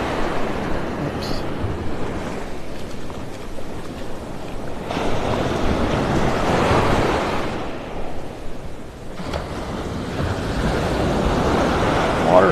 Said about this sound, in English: Water's still rough.